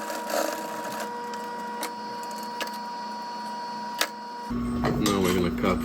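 A sewing machine stitching two carpet pieces joined at a 45-degree angle for a 1962 Triumph TR4: a rapid mechanical run of stitches, then a louder denser burst near the end, close up.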